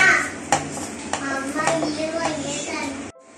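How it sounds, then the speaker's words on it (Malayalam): Spice powder, coriander powder among it, is stirred in a cooking pan for an egg malai curry, with scraping and clinking of utensil against the pan while a voice and other talk go on over it. "നന്നായി ഇളക്കി കൊടുക്കുക"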